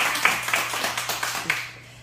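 Scattered clapping from a small audience at a lively gathering with a host, a few distinct claps standing out over a low steady hum, fading toward the end.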